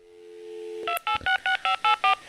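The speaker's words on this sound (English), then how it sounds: "if your computer is connected to a phone, you can easily dial your contacts." A computer-linked telephone in a Microsoft Works software demo dials a contact: a steady dial tone, then seven crisp, evenly spaced touch-tone beeps.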